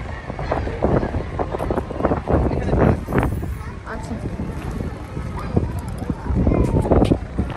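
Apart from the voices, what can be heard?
strong wind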